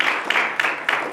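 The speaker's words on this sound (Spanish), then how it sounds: "Denle un aplauso al Señor" A church congregation applauding during a Spanish-language Bible study service, a brief run of clapping with a few stronger accented claps spaced through it, close and moderately loud.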